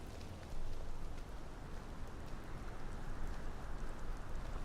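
Steady rain falls heavily and evenly at night in Skyrim, a dense hiss of drops with scattered pattering, no voices over it.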